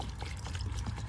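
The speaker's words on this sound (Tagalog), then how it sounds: "Kasi lagyan na tong tubig." Water poured from a container onto a potted basil plant, a steady close splashing trickle lasting about a second with no speech over it.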